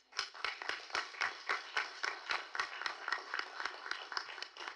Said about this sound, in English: let's give the Board of Education a round of applause